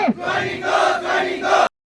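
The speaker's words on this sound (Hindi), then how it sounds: "धरना स्थल पे इतनी भीड़ इकट्ठी हुई है और पुलिस भी ज़्यादा इकट्ठी हुई है" Protest crowd at a sit-in demanding job joining from the Haryana government, chanting slogans in loud, rhythmic unison with three swelling shouted phrases before stopping abruptly.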